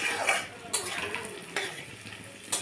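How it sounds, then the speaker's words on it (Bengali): Onion and potato fry quietly in a pan. A soft sizzle runs under three sharp scrapes of a spoon stirring against the pan. "একটু পেঁয়াজটা হালকা হালকা হলেই আমি আলুটা দিয়ে এবার ভাজবো।"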